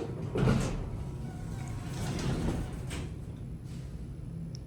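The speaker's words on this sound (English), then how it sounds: "Listen to that door mechanism." An original hydraulic elevator door mechanism in a Houston building, sliding and clunking as it moves, with soft mechanical rumbles and a faint buzzing relay, fairly close and with no talk.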